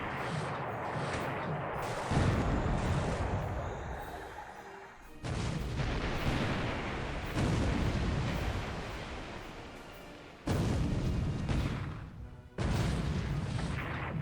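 Naval combat in the computer war game War in the Pacific, with heavy booming torpedo impacts and gunfire coming as several abrupt loud blasts. Each blast rumbles away into a hissing tail, with no talking over them.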